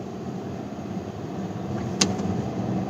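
Hyundai i20 iMT with 120 PS turbo petrol engine driving in second gear after a clutchless manual shift, a steady low engine and road hum inside the cabin with a brief click near the middle.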